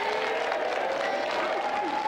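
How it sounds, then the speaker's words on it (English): A studio audience claps for a celebrity guest on a pool video game show, giving steady, dense applause throughout, with a faint tone running underneath. "Round of applause for Mel."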